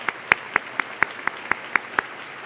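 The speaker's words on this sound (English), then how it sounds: "let's also give them a round of applause" Steady, evenly spaced hand claps, about four per second and fairly close, from an audience at an undergraduate research award presentation.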